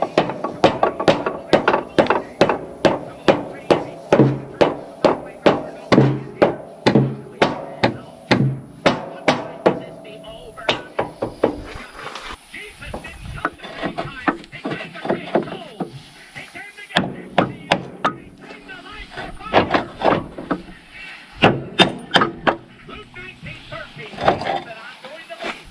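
Repeated sharp metallic taps from a pipe wrench driving a part onto a John Deere 450G lift cylinder, a fast steady series of close, loud knocks that thins into scattered strikes, with someone talking in between.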